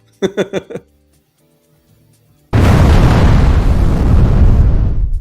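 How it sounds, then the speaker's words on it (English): A booming explosion sound effect in a toy-news show bursts in loud and sustained after a brief musical sting and a quiet gap, rumbling broadly for several seconds. "Oh yeah, big explosion."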